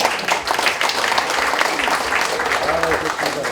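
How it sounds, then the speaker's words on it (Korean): Audience applause fills a large hall at the founding ceremony of the Kim Dae-jung Foundation's Seongnam chapter, a dense, steady roar of many hands clapping throughout, loud and close, with a few voices mixed in underneath. "다시 한번 큰 박수 부탁드리겠습니다."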